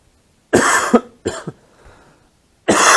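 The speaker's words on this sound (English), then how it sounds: "Damn cough." Close, harsh coughing in three separate bursts, the first two doubled hacks, with quiet pauses between.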